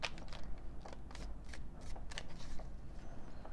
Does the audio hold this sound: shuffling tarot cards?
yes